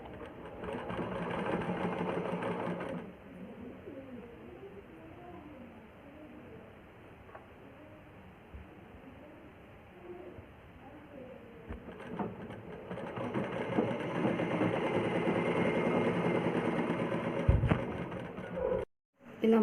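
A sewing machine runs in two bursts, stitching the lining onto an umbrella frock for a small child, with a quieter pause in between and someone talking softly throughout.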